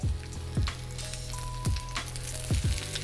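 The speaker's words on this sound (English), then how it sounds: "So now I'm going to go in with my capsicum." Capsicum and onions fry in a pan, a steady sizzle throughout with several sharp clatters of a utensil against the pan, no talking.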